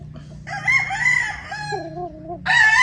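A claret gamefowl rooster crows loudly and close by, one long drawn-out cock-a-doodle-doo with a rising and falling tail, then a second crow beginning right after.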